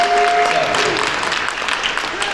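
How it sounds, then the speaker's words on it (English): Audience at an awards show breaking into applause, a short burst of clapping from a crowd that fades slightly, with some voices mixed in. "Yes, clap"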